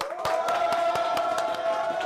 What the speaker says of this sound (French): un tonnerre d'applaudissements pour Herman